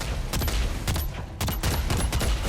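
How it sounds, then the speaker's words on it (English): Gigantophis gun firing in ARK Survival Ascended, a burst of rapid broadband shots in several quick clusters, loud and close with no talk over it. "Press Ctrl to activate your gun"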